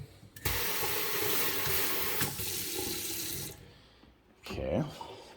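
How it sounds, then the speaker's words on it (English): A wet bar faucet is turned on and runs in a loud, steady rush for about three seconds, stops, then a short burst of splashing follows. "Let me see if the water's running."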